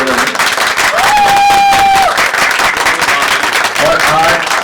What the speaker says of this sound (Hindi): खास तौर पर जोरदार तालियां मिले